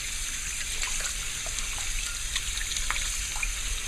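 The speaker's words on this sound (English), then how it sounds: "the lemon with the fish is already soaked a little, so I'm gonna wash it out" Tap water runs steadily into a sink while fish soaked with lemon is rinsed for a gilbaka curry, a close, continuous hissing stream with small splashes and trickles, no talking.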